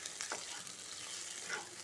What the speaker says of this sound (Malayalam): നമ്മുടെ ഉള്ളി ഒന്ന് വഴന്ന് വരണം